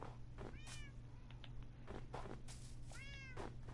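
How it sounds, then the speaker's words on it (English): Minecraft cats meow repeatedly in short, rising and falling calls, several overlapping over steady background hum and game ambience. "We've got all the cats!"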